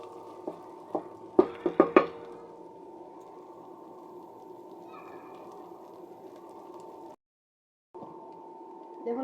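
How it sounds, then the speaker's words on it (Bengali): Spices frying lightly in oil for chicken curry give a steady low sizzle, opening with a few sharp clatters of a spoon against the pot and broken by a brief silent gap near the end. "এখন আমি মশলাগুলো একটু হালকা ভেজে নিব"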